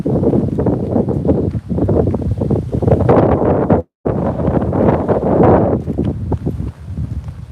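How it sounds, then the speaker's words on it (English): Loud, gusty wind buffets the microphone almost continuously outdoors at Douglas Castle, Scotland, with a brief drop-out near the middle before the roaring rumble resumes. "I know it's windy, guys, right?"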